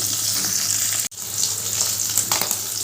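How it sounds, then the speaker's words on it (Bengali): Tangra fish crackling in hot oil with a continuous sizzle, broken by a brief silent gap before the frying resumes. "এপিটোপিট করে ভালো করে ভেজে নেব"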